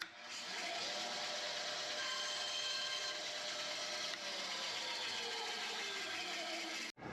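Bandsaw cutting through a sanding drum for a Wen spindle sander, a loud steady whining buzz of the blade biting the material for about seven seconds before a sudden stop.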